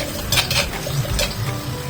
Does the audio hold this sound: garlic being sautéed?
yes